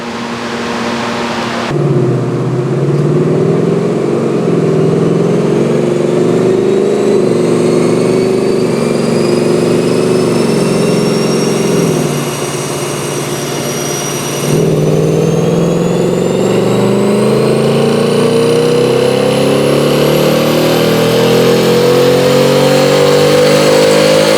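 A 2019 Ford Mustang GT runs on a dyno in a hot dyno room, a loud steady engine drone that climbs in a long rising pull, heard alone at close range.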